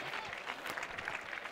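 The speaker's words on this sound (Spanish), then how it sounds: "ha sido aplaudido, una ovación que se ha llevado seguramente donde esté" Audience applause breaks out as an ovation for Ander García at a ham-carving contest in Arévalo, a steady broadband patter of clapping sustained throughout, fairly even and moderately loud.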